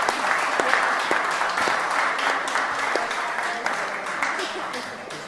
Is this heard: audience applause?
yes